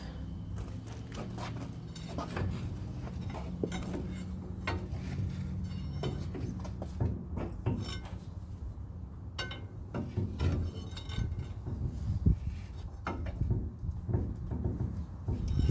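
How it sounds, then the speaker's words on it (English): Metallic clinks, scrapes and knocks from working a brake caliper loose on a 1986 Dodge D100 pickup, irregular close-up taps and rattles of tools and parts over steady shop background noise. "See if we can get this caliper off."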